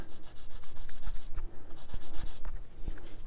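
Light hand-sanding strokes on a Tamiya LaFerrari plastic model body with a fine-grit sander, a steady rapid scratchy rubbing close up with a brief pause partway through.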